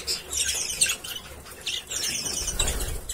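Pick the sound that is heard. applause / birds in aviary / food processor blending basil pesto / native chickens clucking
birds in aviary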